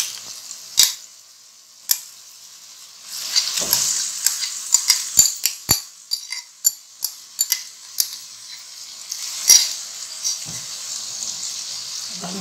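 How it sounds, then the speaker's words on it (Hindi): Marinated minced meat (keema) for Hyderabadi bhuna keema fries with spices in a pan, giving a steady sizzle broken by frequent sharp spoon scrapes and clinks against the pan as it is stirred, with no one talking. "हमने इसको खूब अच्छी तरह से मसाले के साथ भूनना है।"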